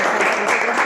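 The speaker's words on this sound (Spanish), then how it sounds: "un gran aplauso" Dense, even applause from an audience at a talk on the history of writing, loud and continuous through a brief moment.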